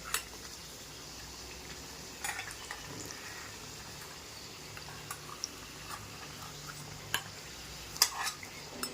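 Katori chaat dough cups deep-fry in oil over a medium gas flame, a faint, low sizzle broken by scattered sharp clicks of a spoon against the pan.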